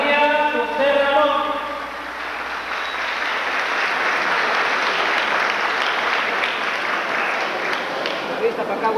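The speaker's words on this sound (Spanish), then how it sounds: "Fuerte el aplauso para Chavarría José Ramón." Sustained audience applause at a school graduation ceremony, a dense steady wash of many hands clapping that follows a brief spoken announcement, moderately loud and continuing evenly throughout.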